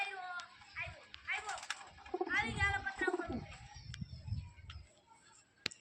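A pigeon that has just landed gives soft, low cooing close by, heard between and beneath nearby voices of people talking.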